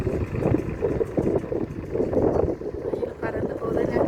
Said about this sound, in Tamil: காற்று செம்மையாக இருக்குது.